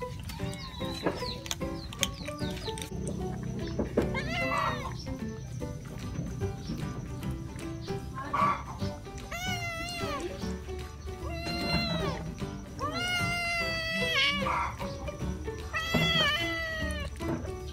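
A small kitten with a big belly meows repeatedly, a series of close, clear, rising-and-falling cries separated by brief pauses over a light background noise.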